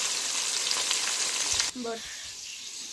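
Chopped onion and green chili fry in a pan with a loud, steady sizzle that cuts off abruptly partway through, leaving a quieter background.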